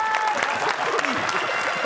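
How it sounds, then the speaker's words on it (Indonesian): A short burst of audience applause at an indoor talk, quick scattered clapping that fills the moment, with a voice speaking over it. "Oke, tepuk tangan."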